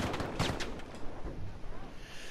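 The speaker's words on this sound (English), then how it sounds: "That fucking artillery pounding my head right now." Artillery fire in Battlefield V: rapid, quiet volleys of distant gunfire and booming shots crackle in the background across a couple of seconds, with no talking.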